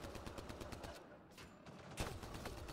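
Rapid automatic gunfire from a recoiling weapon in Mass Effect Andromeda, a fast, even stream of shots with a brief lull and a sharper burst, faint and low in level.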